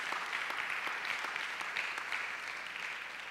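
A church congregation claps in praise during a service, a steady, fairly distant wash of applause lasting the whole stretch at an even level.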